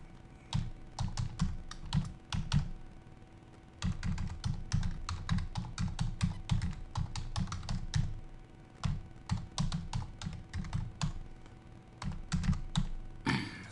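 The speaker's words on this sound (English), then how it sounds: "So I'm going to type in the question box," Rapid typing on a computer keyboard, close and steady, with bursts of clicking keystrokes broken by brief pauses and no talking.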